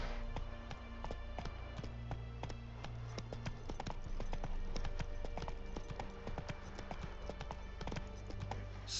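Roach, the horse in The Witcher 3, gallops in steady, rapid hoofbeats that stay fairly close. The clip-clop keeps an even rhythm over a low ambient game score with no talking.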